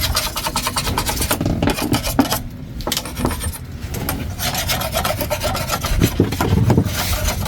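Wood of a boat under construction being sanded and smoothed by hand, a loud continuous rasping scrape with rhythmic strokes and brief pauses, up close.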